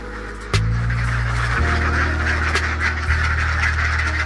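Alabio laying ducks on a duck farm honk and call loudly in a dense, continuous chorus, with strong repeated calls layered over a steady flock din.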